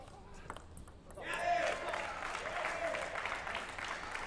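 At a collegiate table tennis team final, spectators break into a burst of applause that swells and carries on, with an announcer talking over the crowd.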